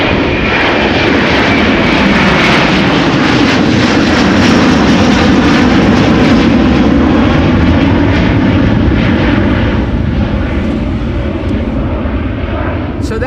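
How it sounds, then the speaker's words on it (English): A Delta Airlines jet departs toward Dallas Fort Worth from Amsterdam Schiphol, its engines a loud, steady roar that holds close and strong across the whole span with no voices over it. "Delta Airlines also going to Dallas Fort Worth"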